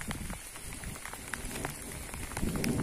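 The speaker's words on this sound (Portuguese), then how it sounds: "tá caindo água" Rain falls during a drive along a highway, a close patter of drops on the vehicle mixed with broadband road noise that rises toward the end.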